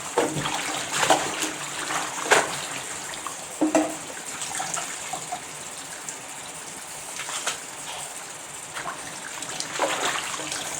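Pumpkin leaves are washed under running tap water, a steady close splash and trickle with occasional louder rustles and sloshes as the leaves are handled, no voices.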